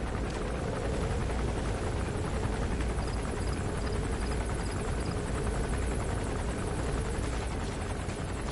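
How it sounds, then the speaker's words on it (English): An enemy gunship helicopter in Metal Gear Solid 5 thrums continuously, its rotor wash a broad, steady roar at moderate level with no voices over it. "It's an enemy gunship."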